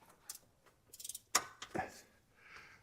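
Socket ratchet on a 6-point socket turning a front upper control arm bolt on an Aston Martin, a few quiet, sharp clicking bursts spaced apart with faint mechanical rattles between.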